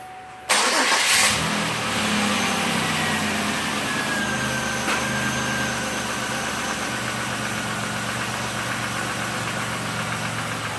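A 2003 Chevy Impala cranks and fires after a belt tensioner pulley install, catching quickly and then settling into a steady, close idle with a faint belt whine and no talking.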